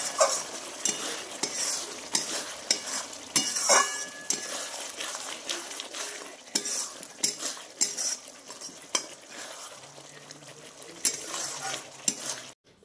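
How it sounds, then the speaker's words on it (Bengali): Spices frying in oil for a fish curry, stirred with a metal utensil that scrapes and clinks against the pan in quick irregular strokes over a low sizzle, close and fairly quiet, with no talking. "তো দেখতে পাচ্ছ এখন ভাজা চলছে আমার"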